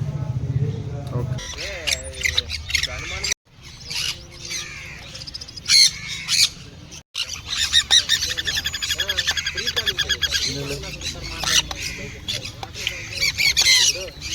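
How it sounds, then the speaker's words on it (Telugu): Harsh, repeated squawking from several exotic foreign birds, loud and close, with people talking over much of it. "విదేశాలకు సంబంధించిన బర్డ్స్ ఎగ్జాటిక్ బర్డ్స్"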